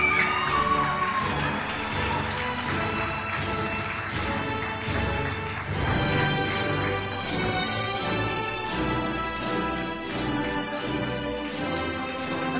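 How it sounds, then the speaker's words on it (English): At a Grace Christian Academy senior graduation, a large crowd applauds and cheers for the graduates with sustained clapping, shouts and whoops rising and falling throughout. "Give them another round of applause."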